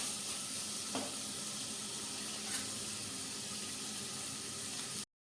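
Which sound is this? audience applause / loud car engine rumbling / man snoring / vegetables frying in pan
vegetables frying in pan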